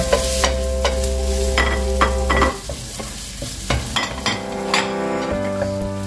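Crab meat dropped into a hot frying pan with chopped labuyo chili and stirred, a steady sizzle under repeated scraping and clinking of the spatula against the pan, close and loud.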